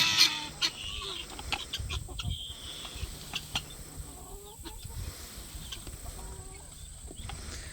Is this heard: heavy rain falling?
no